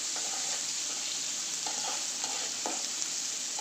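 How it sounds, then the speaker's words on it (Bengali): Sliced onions frying in hot oil in a pan for a hilsa and turnip curry give a steady close sizzle, with a few soft scrapes as they are stirred. "তেল দিয়ে দিয়েছি, এখন পেঁয়াজ দিয়ে দেব।"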